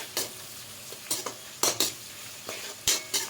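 Red chili powder being stirred into restaurant-style chili chicken in a pan over high flame, with repeated scraping utensil strokes against the pan and soft sizzling beneath.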